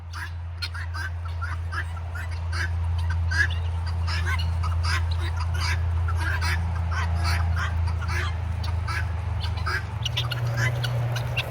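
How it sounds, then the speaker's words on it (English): A flock of fowl that keeps following along honks and gobbles in rapid, overlapping calls, loud and close, over a steady low engine-like hum, with a person talking at times. "These crazy birds. They're so silly."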